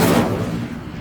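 The Incendio fire spell is cast in Hogwarts Legacy as one loud, close burst that fades quickly into a roaring whoosh.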